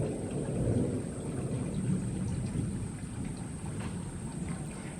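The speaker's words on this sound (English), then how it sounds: "Can you hear the thunder?" Thunder rumbles through a storm over a cottage garden, a low, rolling boom loudest at the start and fading, with steady rain and patter on surfaces throughout; no talking.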